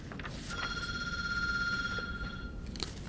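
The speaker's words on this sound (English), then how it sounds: "Oops, somebody didn't turn off their phone." A phone rings with a steady electronic tone for about two seconds over a noisy room background at a city council meeting.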